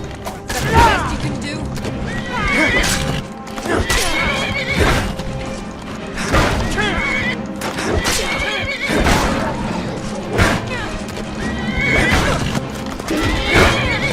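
A horse neighs and whinnies repeatedly as hooves clip-clop in a steady rhythm, loud and close, with other clattering noises mixed in during a game-like scene.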